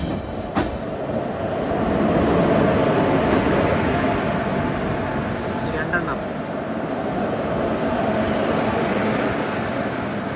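A train climbing Khandala ghat (Bor Ghat) with a banker locomotive gives a steady, loud rolling rumble with faint clicks of wagons throughout, and voices are heard faintly over it.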